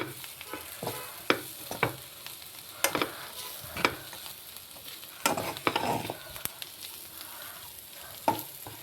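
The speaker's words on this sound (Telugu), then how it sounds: "ఇది కూడా కొంచెం 5 minutes ఫ్రై చేసుకుందాం" Flat beans (chikkudukai) with coriander fry and get stirred in a pan: a soft sizzle punctuated by irregular scraping and clinking from a spatula, close and fairly faint.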